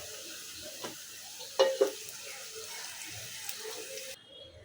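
Chopped potato and coconut fry in oil in a pan, a soft steady sizzle broken by a few louder stirring scrapes and knocks of a utensil against the pan.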